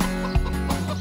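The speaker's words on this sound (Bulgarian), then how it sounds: "Това е пиле, което току-що се е излюбило." A newly hatched chick gives a few short, high cheeps, loud and close, over a brief held tone in a children's farm-animal setting.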